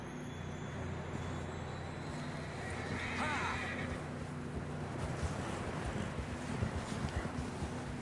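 In the video game Red Dead Redemption 2, a horse whinnies loudly over a low rumbling background, followed by the rough clatter of hooves on the ground moving at a steady pace.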